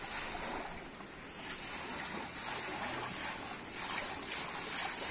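Water slowly draining out of a flooded room, a steady broadband wash and trickle that holds level throughout, fairly close, with no voices.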